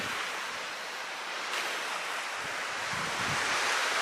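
Ocean waves washing onto the shore in a constant roar on Tasman Island, Tasmania, mixed with gusty wind buffeting the microphone.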